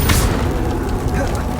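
Confringo fire blast spell in Hogwarts Legacy: a sharp, loud burst at the start that decays into a rumbling crackle, with a voice speaking over it.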